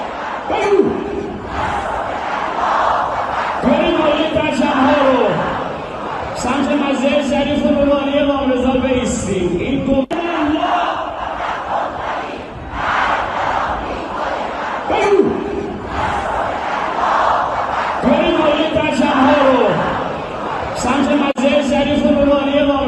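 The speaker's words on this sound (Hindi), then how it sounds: "आप सुन रहे थे, लाखों की भीड़ यहाँ पर इकट्ठा है और इस वक्त नारेबाजी अमेरिका के खिलाफ की जा रही है।" A huge protest crowd in Mashhad chants anti-American slogans in loud, rhythmic waves, massed voices rising and falling in repeated cycles.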